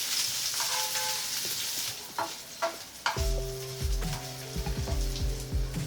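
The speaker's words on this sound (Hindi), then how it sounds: "इसमें पनीर के पीस डाल देंगे और पनीर के पीस को हल्का फ्राई करेंगे।" Paneer pieces lightly frying in oil in a pan, a close steady sizzle with occasional clinks and scrapes from stirring, louder crackling after a few seconds, no speech.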